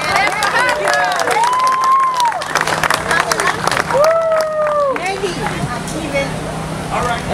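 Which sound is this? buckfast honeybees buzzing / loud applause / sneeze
loud applause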